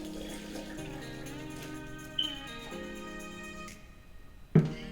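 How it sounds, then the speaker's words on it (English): Cabbage juice, steeped about 20 minutes, is poured through a strainer into a bowl, making a faint trickling, splashing flow that tapers off and ends with a sharp clunk of the container. "we're gonna use a strainer and a bowl, and we're just gonna pour it out"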